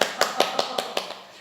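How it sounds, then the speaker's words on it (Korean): A studio audience claps in unison: six quick, evenly spaced, loud claps about a fifth of a second apart that fade slightly over a second and a half. "박수."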